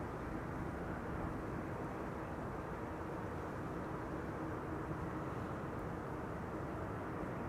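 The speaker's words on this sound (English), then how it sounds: "There's the Dreamliner arriving from Austin, Texas." Boeing Dreamliner airliner arriving at Amsterdam Schiphol, a low, steady, distant rumble of engine noise with no clear peaks, fairly faint and continuous throughout.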